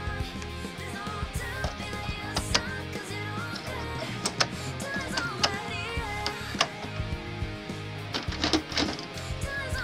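A Canon G3370 inkjet printer runs steadily, its mechanism whirring under a continuous stream of clicks, ticks and quick sliding sounds as the print head shuttles back and forth at close range, with no talking.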